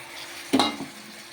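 A single short scrape and stir sounds as tomatoes go into onions frying in oil for a prawn curry, followed by a faint low sizzle in an otherwise quiet pan.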